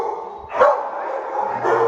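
Dogs at an animal shelter, including a black and tan German shepherd mix about a year old, bark and yip in a continuous jumble with louder bursts, set against steady kennel background noise.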